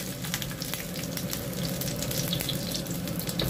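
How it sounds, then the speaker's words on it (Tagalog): Yellow onion and ginger sizzle steadily in a hot oiled pan, frying with a constant crackle and occasional stirring, close and alone. "Then, we add in yellow onion. Hanggang bumango lang po siya, igigisa lang natin."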